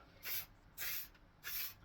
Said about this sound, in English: So we'll just start spraying this